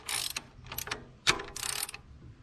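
A 10mm ratchet tightens a screw on a 2AZ-FE Toyota Camry engine, with several quick bursts of close, crisp clicking strokes separated by brief pauses.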